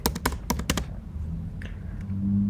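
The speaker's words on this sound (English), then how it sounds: "So how you can do that is by typing git" Git config command being typed on a computer keyboard: a quick burst of crisp, close key clicks in the first second, then only quiet room hum.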